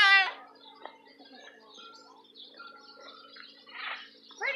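A bird chirps and calls in short scattered bursts on a farm, faint to moderate, with a louder chirp at the start and end over quiet background.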